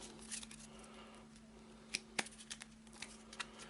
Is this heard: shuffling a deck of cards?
yes